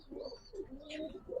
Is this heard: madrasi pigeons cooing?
yes